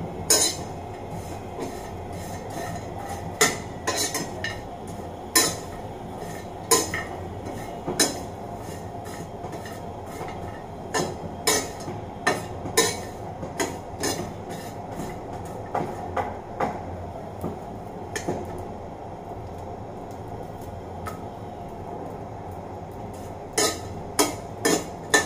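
Dried fish dry-roasted and stirred on a metal tawa over low heat: repeated sharp metallic scrapes and clinks of the spatula in an irregular rhythm, close and distinct over a quiet background, no talking.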